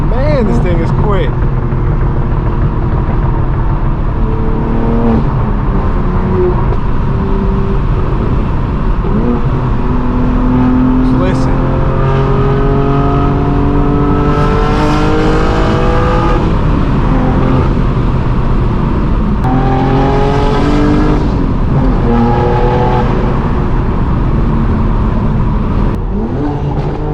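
A manual BMW M4 G82 with a straight-piped exhaust pulls through several hard acceleration runs, its loud engine note sweeping upward and breaking at each gear change into a lower, steady cruising drone.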